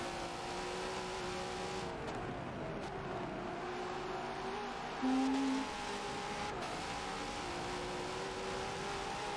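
A Nissan Skyline racing at Road Atlanta in a V8 Supercar Series event, struggling for traction: a steady, close engine drone whose pitch rises and dips with throttle, with a brief squeal partway through and no talking.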